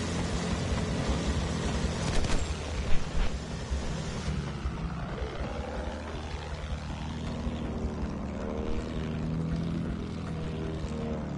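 A propeller plane flying in the video game Battlefield 1, a steady droning engine hum with harmonic overtones that holds throughout, shifting slightly in pitch as it passes, with a few brief clanks early on.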